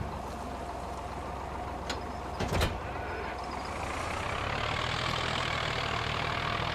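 A tractor engine in Farming Simulator 25 idles with a steady low rumble, a few sharp clanks of straps or equipment partway through, then the engine note rises and holds a little louder.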